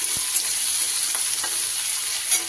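Green beans frying in a pan for a vegetable paratha filling, giving a loud, continuous, hissing sizzle with a few faint stirring taps, close and without talk.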